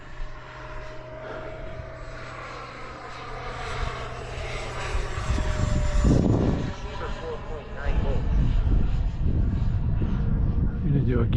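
A T-7A jet trainer in flight gives a steady, loud engine roar with a faint whine that swells in intensity partway through, while someone talks over it.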